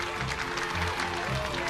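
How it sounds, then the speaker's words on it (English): Children clapping and cheering at a Christmas tree lighting in a Thomas the Tank Engine story, a short burst of steady applause with a tonal music bed running beneath. "The children clapped and cheered."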